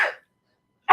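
A single sneeze from an allergy sufferer, a short bright burst at the start and another sharp explosive burst near the end, close and loud with near silence between.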